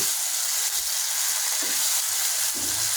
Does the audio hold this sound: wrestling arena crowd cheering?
no